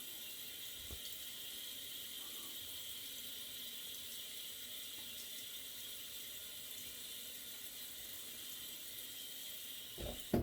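Cold water runs steadily from a bathroom tap after a shave with a Yaqi Katana safety razor, a faint continuous hiss with a couple of small knocks near the end.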